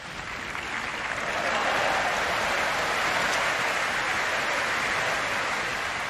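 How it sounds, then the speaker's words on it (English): A large crowd outside an abbey claps continuously and loudly, a dense hail-like patter that swells over the first second and then holds steady throughout. "it sounded almost like hailstones on the roof, but actually it was people clapping outside"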